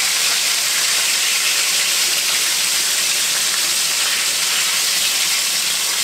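Chicken fried steak deep frying in hot grease gives a loud, steady hiss and sizzle, a dense crackling wash that runs unbroken from start to finish with no voices over it.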